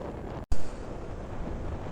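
Riding a Suzuki Gixxer motorcycle on the Mymensingh–Netrokona highway brings a steady, loud roar of wind buffeting the microphone, broken by one brief dropout.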